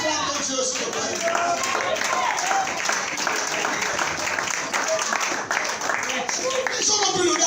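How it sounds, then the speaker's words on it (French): A church congregation bursts into sustained applause to acclaim God, a dense wash of clapping hands lasting several seconds, with voices mixed in over it. "Acclame ton Dieu, s'il te plaît."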